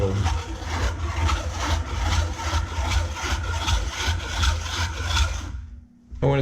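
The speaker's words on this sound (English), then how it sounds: "It has this little wheel in there and a blade, and it just presses it through very quickly." A hand-cranked food mill with a small wheel and blade presses butternut squash soup through its screen, making a steady rhythmic grinding and rubbing close by, then stopping abruptly near the end with no talking.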